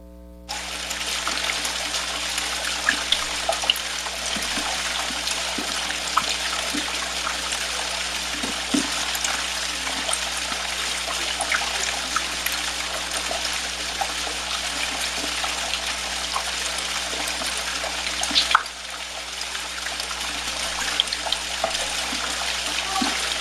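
Shallow water trickles through a mostly dry gorge in a park, a steady, soft, continuous babble with small splashes and no voices.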